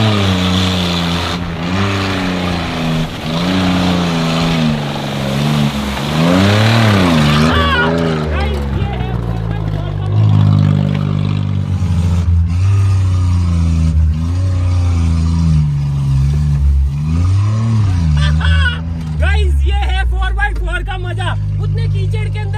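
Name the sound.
car driving in four-wheel drive through mud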